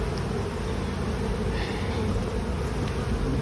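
Honey bees hum in a steady, dense drone throughout an open hive during a September inspection, a close, continuous buzz with no voices.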